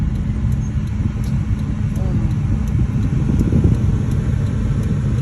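A car rolls along the road, its interior filled with a continuous low engine and tyre rumble that stays steady throughout.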